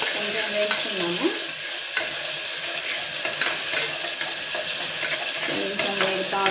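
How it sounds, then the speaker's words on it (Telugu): Sliced onions frying in a pan of hot oil, browning while being stirred, with a continuous bright sizzle and occasional scraping of the spoon, close and steady with no talk. "ఈ ఆనియన్స్ బాగా వేగాలి, కొంచెం బ్రౌన్ వచ్చే వరకు"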